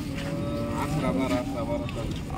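A horned, second-calving dairy cow at a cattle market lets out a long, loud, close moo that fills the moment, with market noise faintly behind.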